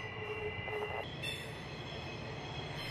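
A train rolls past on the Horseshoe Curve railroad, a steady rumble of wagons with faint wheel squeal, heard from a distance.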